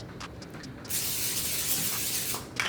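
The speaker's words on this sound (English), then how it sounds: "I also use some pan spray." A single sustained hiss of cooking spray onto a pan over medium heat, lasting under two seconds, close by, with a few small clicks before and after.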